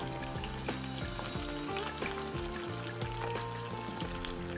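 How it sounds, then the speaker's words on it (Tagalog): Chicken wings deep-fry in hot oil with a continuous soft crackling sizzle, heard faintly beneath steady background music. "ipiprito na natin to in deep fry para pantay ang kulay at pantay"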